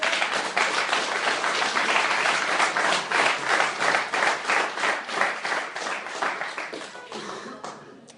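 A church congregation applauding, a dense, loud burst of steady clapping that holds for several seconds and then thins out toward the end.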